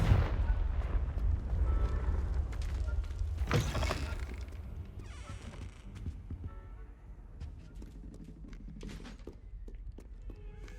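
A Confringo fire spell explosion in Hogwarts Legacy bursts once as a sharp, bright blast over a low rumbling game soundscape, followed by crackling debris that fades away.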